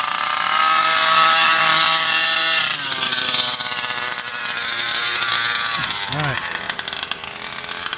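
Small 5th scale RC petrol engine running near at high revs, a loud buzzing whine that drops sharply to a rougher lower idle partway through, with speech and brief rising chirps near the end.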